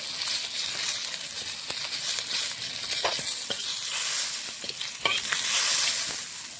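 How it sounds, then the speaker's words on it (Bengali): Hot oil sizzles steadily as bata fish fries, with occasional sharp crackles and a few scraping clicks from stirring. "মাছগুলো লাল লাল করে ভেজে নিয়েছি"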